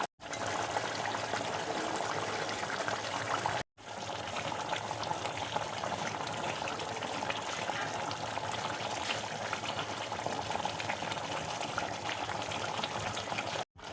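Fish curry broth simmering under the lid of a pot, with a continuous quiet bubbling and hiss, briefly cut off twice.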